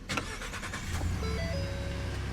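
A 3.5 liter twin turbo V6 in a 2017 Ford Expedition EL Platinum starts by push button, with a brief crank catching into a steady, close idle hum inside the cabin and a faint electronic tone.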